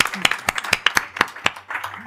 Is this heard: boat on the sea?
no